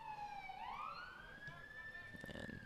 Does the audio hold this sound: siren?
yes